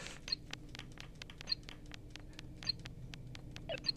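Little retro electronic blips and chirps from a mobile phone game inside the Blair Witch video game tick out in a regular pulsing rhythm, quiet over a low ambient hum, with occasional brighter beeps.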